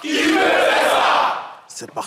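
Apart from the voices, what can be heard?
group shouting a battle cry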